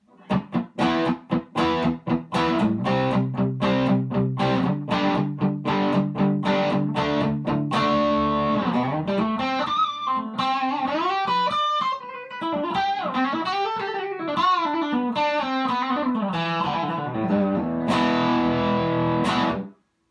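Electric guitar played through Mad Hatter Super Shredder pickups into a Princeton amp with a lightly overdriven crunch tone, first choppy strummed chords, then sustained riffs and bends, loud and close with no talk.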